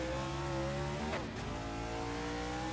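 Race car engines in a sim racing game roar loud and continuous at a green-flag start at Atlanta, layered engine tones rising as the pack accelerates, with a brief sweeping pass midway.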